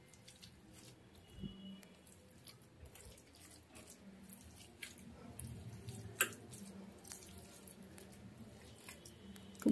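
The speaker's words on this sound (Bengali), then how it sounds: "খুব ভালো করে হাত দিয়ে চটকে মেখে নিতে হবে।" Raw banana being mashed by hand with gram flour, onion and green chilli, giving soft, irregular squishing and sticky pressing sounds, quiet and close, with no talk.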